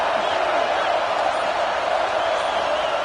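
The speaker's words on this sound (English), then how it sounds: "Listen to this crowd just shaking the girders of this place trying to help their defense." A football stadium crowd roars for its defense, a dense, sustained wall of cheering at steady loudness with no break over a few seconds.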